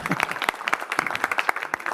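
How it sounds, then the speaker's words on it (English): Audience applause fills a city council meeting chamber, a brief burst of brisk, moderately loud clapping from a crowd. "Give him a round of applause."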